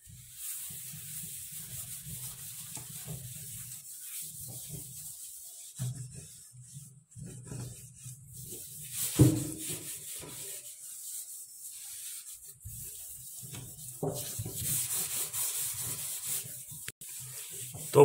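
A scrubber rubs back and forth over a blackened steel sink coated with Harpic cleaner, producing steady rasping strokes in bursts with short pauses, close and fairly loud, with no talking.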